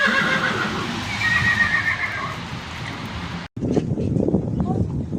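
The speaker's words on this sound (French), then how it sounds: "Il est épuisant ce poney" Outdoors, a pony gives a loud, drawn-out neigh over a rushing windy background, with hoof and movement noises and a brief dropout before the rustling resumes.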